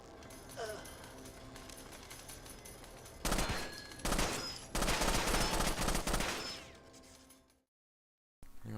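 Bursts of automatic gunfire in the video game Rainbow Six Vegas 2, dense rapid fire in several loud volleys over game ambience, cutting to brief silence near the end.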